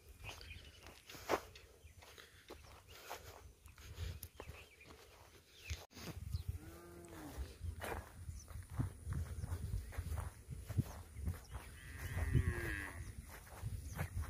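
Village cattle in rural Jorhat low with a few drawn-out moos, mixed with footsteps and shuffling hooves against a quiet outdoor background.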